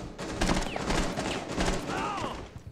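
Gunfire in the tactical shooter Rainbow Six Siege, a rapid run of loud overlapping shots and impacts across the whole moment, dense and busy in the game's mix.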